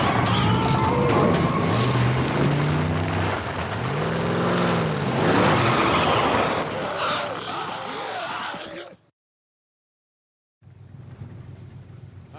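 Truck engine starting and running in The Last of Us Part I, a rough rumbling motor with shifting tones and clatter, cutting to silence before a low idle resumes; no speech.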